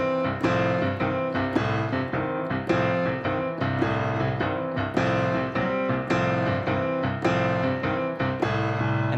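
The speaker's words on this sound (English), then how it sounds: "Then we'll get into a medium blues shuffle." A medium-tempo blues shuffle on solo piano, with full chords repeating in a steady lilting swing and regular accented attacks, clear and close with no voices.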